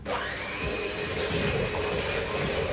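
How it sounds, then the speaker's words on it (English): An electric whisk beats sugar, salt and eggs in a home kitchen, a steady loud whirring drone with no break across the whole stretch. "So this is just the sugar, salt and eggs. We're going to whisk it until it's pale"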